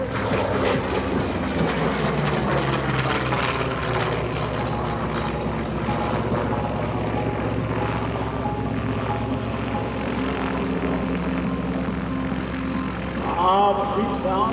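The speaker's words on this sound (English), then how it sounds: "The sweet sound of that powerful engine." A Korean War-era F4U Corsair piston-engine fighter flies at an airshow, its powerful propeller engine giving a steady, loud drone with shifting pitch throughout, while narration and background music sit underneath.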